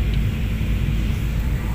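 A Lion Air jet is heard at an airport while waiting for a landing, a steady low roar of aircraft engines with a broadband rumble that holds at a constant level.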